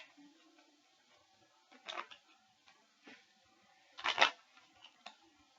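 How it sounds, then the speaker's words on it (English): A regular deck of playing cards is shuffled, giving two short bursts of riffling clicks with faint taps between them, close and quiet with no talk. "I'm gonna shuffle the regular deck."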